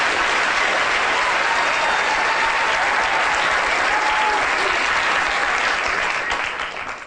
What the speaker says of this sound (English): Can we have a big round of applause for the locust and Peter and Claire?